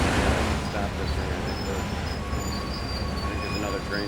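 A train rolls past in a railway simulator game, a steady loud rumble of wheels and carriages with high squealing tones, continuous throughout.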